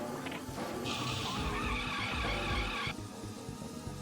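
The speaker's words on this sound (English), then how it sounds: "you get to hear the tire screeching sound a bit less" Tires screech in the video game Speed Power Gunbike, a sustained, loud squeal that rises over a rumbling engine for about two seconds before cutting off.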